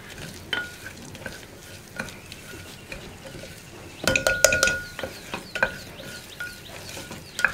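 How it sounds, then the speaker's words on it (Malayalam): Spice powders are stirred into a potato sabji in a pan, a low sizzle under repeated scraping strokes and sharp metallic clinks of a spoon on the pan, the clatter busiest in the second half. "ഇനി ഇതെല്ലാം ചേർത്ത് നന്നായിട്ടൊന്ന് ഇളക്കി ഈ പൊടികളുടെ റോ സ്മെല്ലൊന്ന് മാറി വരുന്നത് വരെ ഇളക്കി കൊടുക്കുക"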